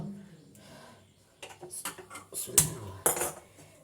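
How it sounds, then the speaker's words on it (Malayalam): Frying pan set down on a gas stove for cooking ghee, a few sharp metallic clanks and scrapes in quick succession after a quiet start, close and moderately loud, with a voice speaking briefly at the beginning. "അപ്പോൾ നമ്മൾ ചട്ടി വെച്ചിട്ടുണ്ട് കേട്ടോ"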